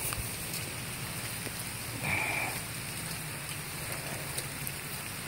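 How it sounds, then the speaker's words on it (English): Heavy rain that has fallen for two days beside a house, car and pond, a steady, fairly faint hiss with a brief swell partway through. "this is how it's been raining right here for 2 days"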